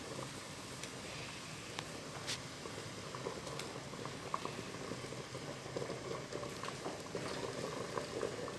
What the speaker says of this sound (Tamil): பாருங்கள் இந்த அளவுக்கு நல்லா கொதிக்கணும்